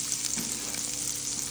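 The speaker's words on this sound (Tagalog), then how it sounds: "Lagay ko na yung garlic." Garlic fries in melted butter in a pan, a dense, even close-up sizzle and crackle filling the whole moment with no voices.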